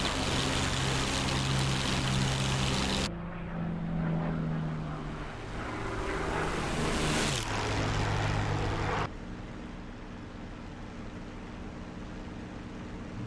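P-51 Mustang propeller engine in the DCS World flight simulator, a loud continuous droning roar with abrupt shifts in tone and level as the sound cuts between perspectives.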